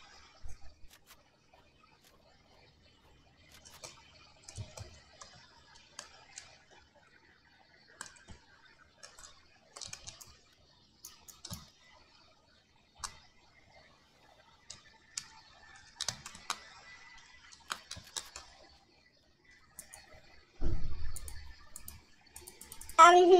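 Sparse keyboard and mouse clicks while playing a competitive build-and-fight online game, light irregular taps scattered throughout, close and fairly faint, with a louder burst of activity near the end.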